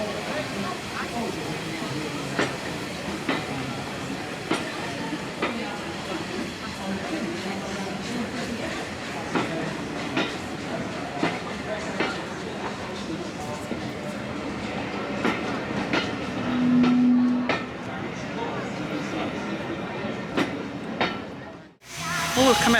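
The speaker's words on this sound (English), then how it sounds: "the steam train has brought us to Ramsbottom" A heritage steam train rumbles and clatters along the rails with a steady rhythmic clicking of wheels, loud and close, before abruptly cutting off near the end.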